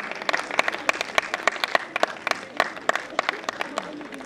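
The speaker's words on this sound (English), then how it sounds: "A big round of applause to all our achievers." Audience applause at an institute's annual day ceremony honouring rank-holding students, a steady run of sharp, distinct hand claps from a modest crowd lasting the whole stretch at moderate loudness.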